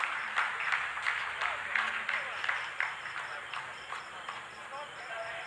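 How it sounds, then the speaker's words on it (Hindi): Scientists at ISRO mission control clapping during the Chandrayaan-3 lunar landing, a steady patter of many hands filling the room at moderate volume, with voices talking over it throughout. "आप इस तालियों के गड़गड़ाहट को सुन सकते हैं"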